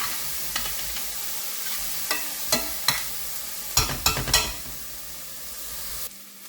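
Onions fry in a pan under a steady sizzle while a utensil stirs them, scraping and clicking against the pan in irregular strokes, close up with no talking.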